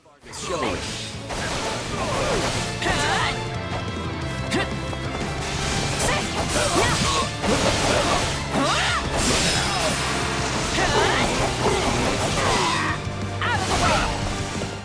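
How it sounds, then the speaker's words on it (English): Crashing, smashing impacts and swooshes clatter across a battle in Fire Emblem Warriors: Three Hopes as an ice wall shatters, loud repeated breaks and hits over a steady music bed, with voices talking through much of it. "Did you think Vargas's wall of ice would shatter so easily?"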